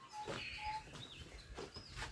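Lone bird calling outdoors in an Ethiopian natural setting, a few short whistled chirps and a rising note spaced irregularly over quiet open-air background.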